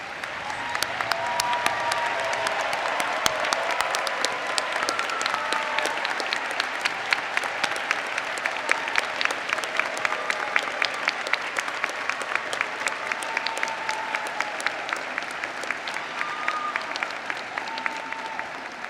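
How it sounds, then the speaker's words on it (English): Sustained applause from a large commencement audience honoring nursing faculty, staff and new graduate nurses, a dense steady wash of many hands clapping at even loudness throughout, with no speech over it. "could stand and be honored with applause"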